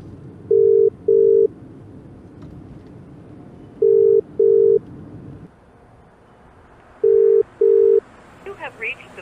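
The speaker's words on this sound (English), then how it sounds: "Call Rachel." A telephone ringback tone on an outgoing call, three pairs of steady electronic beeps spaced a few seconds apart, loud and clear against a low background hum.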